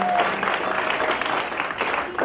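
Church congregation applauding during a service, a brief dense burst of clapping with faint voices mixed in, fairly close and steady across two seconds.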